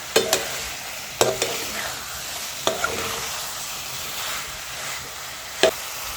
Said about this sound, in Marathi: अशी छान मस्त परतून घ्यायची।